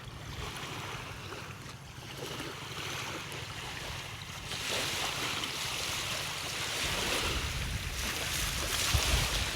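Sea waves wash and surge steadily at an island shore in Masbate, Philippines, with wind rumbling across the microphone, growing slightly louder toward the end.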